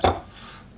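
A knife chops once through a hatahata fish on a cutting board, a single sharp, close thud that fades quickly into quiet.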